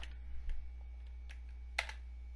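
Close keystrokes on a computer keyboard as a PIN is entered: a few scattered soft clicks over a low steady hum, with a sharper tap near the end and no speech.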